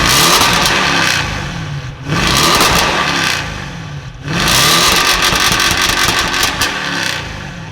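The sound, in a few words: Audi RS7 engine revving through upgraded downpipes and 4-inch exhaust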